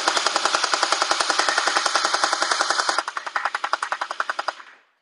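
A TOYAPY MP9 gel ball blaster fires in a rapid, steady burst of about forty sharp close-up shots, slightly changing in tone partway through, then winds down and stops.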